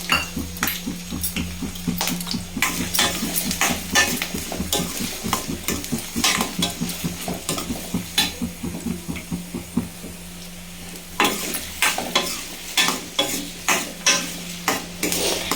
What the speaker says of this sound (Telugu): ఇదిగోండి, ఆయిల్ హీట్ అవుతుంది. ఆనియన్స్, మిర్చి యాడ్ చేసుకుందాం